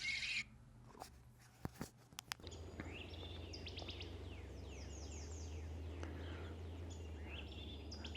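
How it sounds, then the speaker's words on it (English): Faint mixed birdsong during spring migration, including an American redstart, with thin high chirps and trills scattered over steady outdoor background noise and no talking. "I'm hearing all kinds of birds around me. American redstart."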